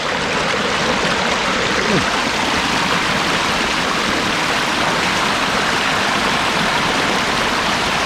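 A mountain stream in Glacier National Park rushes and splashes continuously nearby on a hot summer hike, a steady loud wash of flowing water with no clear speech.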